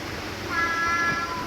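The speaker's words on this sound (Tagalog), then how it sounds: "Kumakanta ang aming pusa." A house cat gives a single short, faint meow under low background noise, with no talk.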